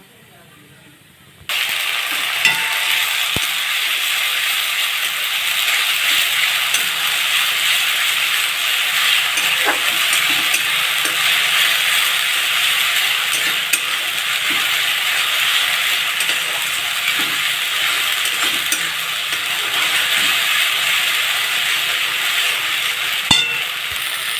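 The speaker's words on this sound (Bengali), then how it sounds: "মাছটা বেশ বেশ ভাজা ভাজা হয়ে গেছে এখন আমি ওর মধ্যে আদা রসুন আর লঙ্কা বাটা আর পেঁয়াজ বাটাটা দিয়ে দেব" Katla fish frying in a pan with ginger, garlic, chili and onion paste gives a steady, even sizzle throughout, with occasional light clicks of stirring and no talk.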